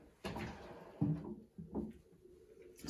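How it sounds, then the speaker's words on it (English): An IKEA Hemnes bathroom vanity drawer is pushed in on its metal rails. Faint, brief sliding bumps and soft thuds come close by in a quiet room. "And once they drop in, you can push the drawer in."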